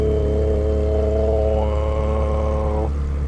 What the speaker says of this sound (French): Le bruit de l'échappement.